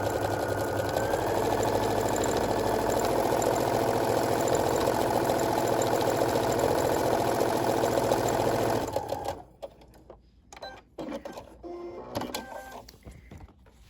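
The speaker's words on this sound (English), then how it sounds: "Okay, so I'll sew down that one." A sewing machine stitches through a paper-pieced fabric heart block, running loud and steady for about nine seconds before stopping, followed by soft handling sounds of fabric and paper.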